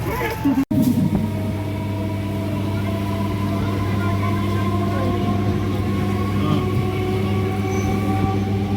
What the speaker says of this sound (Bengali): শেষমেশ আমরা হাওড়া স্টেশনে এসে পৌঁছে গেছি।